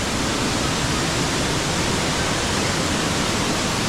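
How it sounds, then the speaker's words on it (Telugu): Elephant Falls in Shillong, Meghalaya, roars as a dense, unbroken rush of falling water, loud and close, with no pause or change throughout. "పైన నుంచి వాటర్ పడుతున్నాయి చూడండి"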